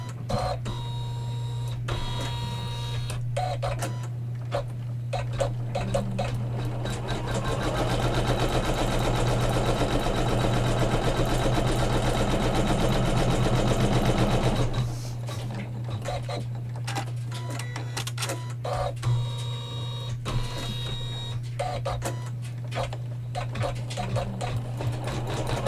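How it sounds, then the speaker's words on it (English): A sewing machine tacks down quilt fabric along the left and right sides of a pillow's borders, a rapid mechanical stitching whir that builds into a louder continuous run in the middle before returning to short bursts. "So it's just tacking down that fabric on the left and right sides."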